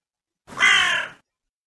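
A single crow caw rings out clearly, one harsh call lasting under a second, close and alone against silence, used in a Halloween children's story.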